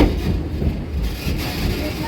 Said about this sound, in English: The locomotive at the head of our train today is the Thomas A. Edison. It's a coal-fired steam engine